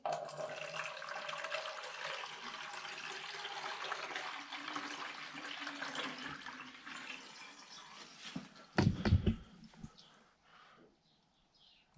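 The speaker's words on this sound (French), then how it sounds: "Donc je vais faire un test d'écoulement d'eau." Water running and draining through the drain of a newly fitted shower tray in a bathroom under construction, a steady wash of flow that thins out, followed by a brief louder gurgle and splash before fading.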